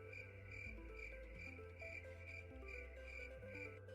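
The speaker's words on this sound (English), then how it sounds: "Have crickets on here? I do." A cricket chirping sound effect plays from a soundboard, a steady high pulsing trill that repeats evenly and faintly throughout, with no talk over it.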